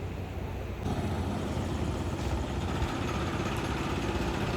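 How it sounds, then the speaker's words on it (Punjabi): A tractor pulls up and idles nearby, a steady low diesel rumble that swells as it arrives and then holds at an even, continuous level, with no talk over it. "ਆ ਗਿਆ ਇੱਕ ਟਰੈਕਟਰ ਆ ਗਿਆ"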